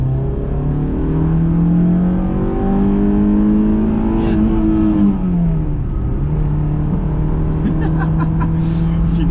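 A Honda S2000 accelerates on a highway in the rain, its engine droning loud and close inside the cabin, pitch climbing steadily and dipping briefly at a gear change before pulling again.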